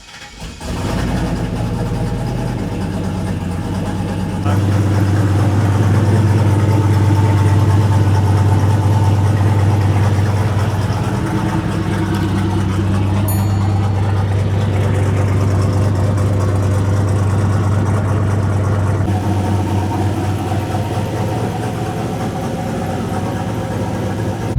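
A single-turbo 5.3 Chevrolet Silverado truck engine settles into a steady, loud idle right after starting, with a low constant rumble that shifts slightly partway through and holds alone with no talk.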